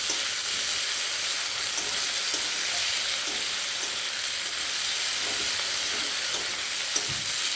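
Spice masala sautés with a splash of water alongside potatoes and pointed gourd, giving a steady, even sizzle and hiss throughout, with faint occasional stirring taps beneath.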